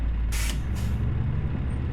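Two sharp pneumatic hisses from a truck's air brake in Euro Truck Simulator 2, the first longer and louder, the second brief, over a steady low engine rumble.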